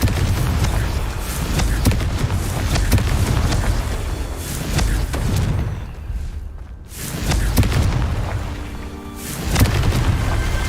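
Confringo explosive spell blasts in the video game Hogwarts Legacy, heavy booming bursts layered over a dense, loud game soundscape with a brief lull in the middle and no speech.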